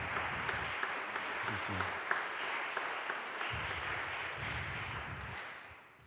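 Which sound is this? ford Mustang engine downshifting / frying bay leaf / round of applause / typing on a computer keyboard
round of applause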